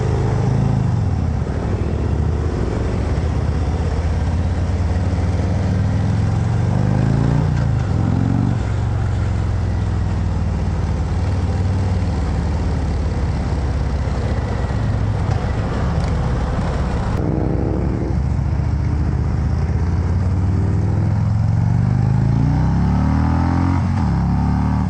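A 2019 Harley-Davidson Road King Special with the 114 engine, heard while riding: a loud, steady low rumble with wind roar, rising and falling as the rider shifts and accelerates, no talking.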